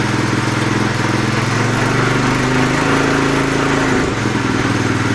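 A small tiller engine runs loud and close, its buzzing drone shifting slightly in pitch as it revs up and down.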